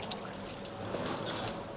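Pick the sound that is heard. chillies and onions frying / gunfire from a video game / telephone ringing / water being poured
water being poured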